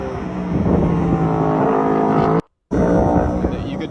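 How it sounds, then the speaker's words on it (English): A NASCAR Next Gen race car with a 650 HP engine and sequential gearbox roars past with a loud, harmonic engine drone that cuts out abruptly for a moment before returning. "You could hear the car."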